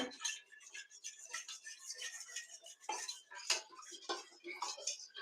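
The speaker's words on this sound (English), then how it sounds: "take my spoon, give all of this a good stir, stir the yeast, stir the sugar" A spoon stirs yeast and sugar in a bowl, quiet repeated clinks and scrapes against the sides in an uneven rhythm, faint and close, with no talking.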